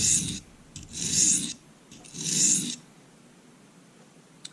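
A knife is sharpened freehand on the coarse side of a Norton crystalline oilstone, giving three long, close, raspy strokes separated by brief pauses, with no speech.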